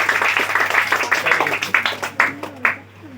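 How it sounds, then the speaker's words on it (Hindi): Schoolchildren in a classroom break into a burst of brisk clapping that thins into a few scattered, separate claps before it fades out, and voices can be heard faintly beneath it. "ताली बजाइए।"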